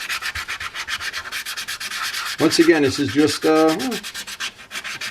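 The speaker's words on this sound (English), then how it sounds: "I'm sanding it with 600." 600-grit sandpaper rubbed over a repaired area of carbon-fiber motorcycle bodywork on a Ninja restoration, with steady, close, rhythmic scratchy strokes throughout and someone talking over the middle.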